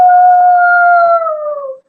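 A person imitates a wolf howl, holding one long, loud, pure-toned note close by that stays steady and then slides gently downward before cutting off.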